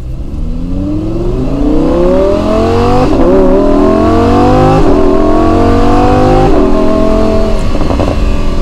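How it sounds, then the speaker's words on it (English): Lamborghini Huracan EVO under hard acceleration, a loud close engine note climbing steadily in pitch through several gears, with brief dips at each upshift and no talk over it. "You ready for our last acceleration for today?"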